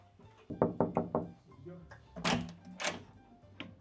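Someone knocks on a hotel room door in a quick set of four raps, close and clear, followed by muffled thumps and brief voices in the room.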